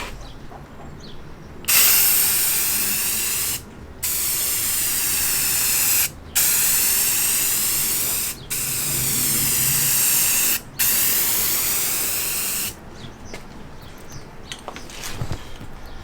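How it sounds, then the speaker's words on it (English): Long, loud hissing bursts from a spray can lay a second coat of primer on a Subaru car fender, broken by four brief pauses, with quieter clicks and rattles before and after. "I'm gonna spray a second coat of primer on this"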